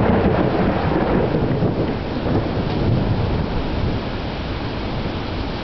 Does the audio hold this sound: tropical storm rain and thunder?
yes